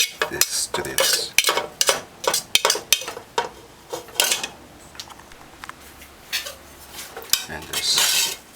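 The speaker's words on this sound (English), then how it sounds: "And just stir it" Vegetables are stirred into cornmeal in a pot, with a spoon scraping and knocking against the pot in irregular close bursts, the final stroke a longer scrape.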